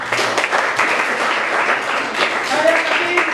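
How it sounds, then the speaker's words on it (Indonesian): A class of students claps together in a room, a steady wash of applause lasting a few seconds, with voices talking over it. "Jawabannya benar, beri tepuk tangan dulu."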